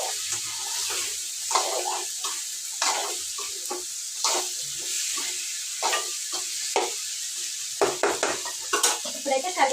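Carrot curry stirred in a pan, a spoon scraping and clinking against the metal with soft sizzling underneath, in irregular repeated strokes that grow busier toward the end.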